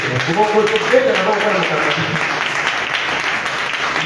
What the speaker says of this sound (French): on acclame pour notre pasteur